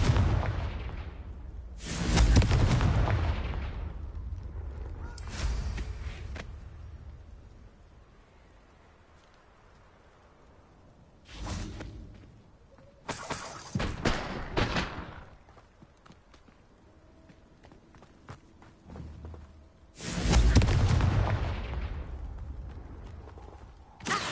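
Blasting spells go off in Hogwarts Legacy as a string of heavy, booming explosions, each with a long rumbling tail. Quieter stretches with faint movement separate them.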